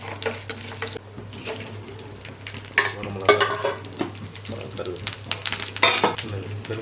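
Cooked rice stirred in a pan with a tempering of mustard seeds, fennel and urad dal, with close scraping and tossing strokes over a frying sizzle and a steady low hum underneath.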